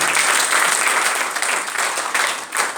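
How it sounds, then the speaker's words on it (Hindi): Loud applause erupts from the audience at an RCM business seminar, a thick, continuous burst of clapping that swells and dips slightly without any talk over it. "जोरदार तालियां।"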